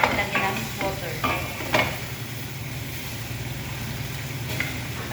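Food sizzling and frying in a pan while a utensil stirs and scrapes it in quick strokes early on, then a steady, close crackle continues alone with a low hum underneath.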